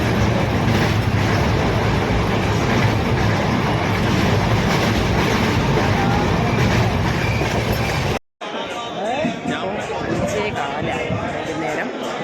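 A moving passenger train rolls along with loud, constant rumble and rhythmic clickety-clack of rail wagons, then after a brief cut the sound turns quieter and busier with clatter and squeals.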